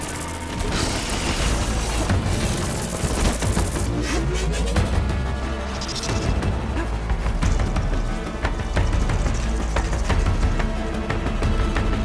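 Continuous loud weapon fire and impact booms from a Horizon Forbidden West rebel attack battle, a dense unbroken barrage of shots, clanks and explosions with no clear pauses.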